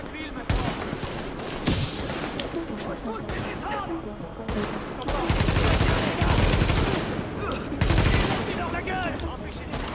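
Gunfire in the video game The Division, dense bursts of automatic fire and repeated shots close by, with louder volleys near the middle and end, while players talk over the shooting.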